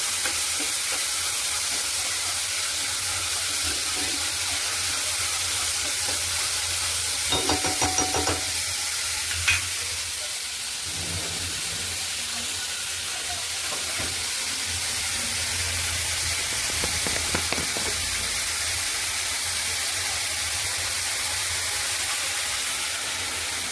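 Chopped onions fry in oil in a home kitchen pan, giving a continuous sizzling hiss, while a spoon scrapes and stirs them now and then, with a brief cluster of clinks and scrapes partway through.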